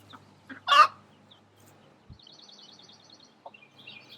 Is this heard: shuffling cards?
no